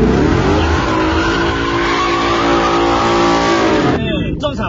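A modified Mustang at a drift track drifts under heavy throttle, its engine roaring loud and close with tires squealing continuously, then cutting off abruptly near the end as people speak.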